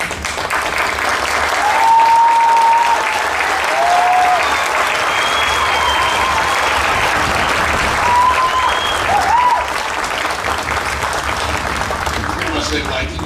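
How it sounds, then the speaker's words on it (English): Graduation audience applauding steadily, with dense clapping from a large crowd that swells and holds for several seconds, and a few whistles and voices rising over it. "even just standing up they clap"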